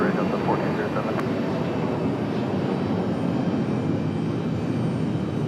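A Delta airliner takes off from runway 23 right at Raleigh-Durham International, its engines a steady, loud, broad roar that holds evenly throughout.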